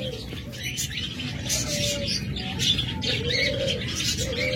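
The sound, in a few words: pet birds calling in cages at a bird shop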